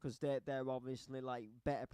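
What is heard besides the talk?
No distinct noise like a dog, phone or traffic.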